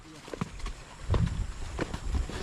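Horse hooves clopping along a rough, difficult rural road, several uneven hoof strikes at mid distance amid outdoor noise, with some voices nearby.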